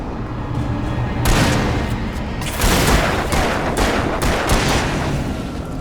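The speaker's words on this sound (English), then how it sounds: "Shooting!" Loud, rapid gunfire in the action game Alan Wake, a dense series of sharp cracking shots with heavy booms, several distinct bursts in quick succession and no talk over them.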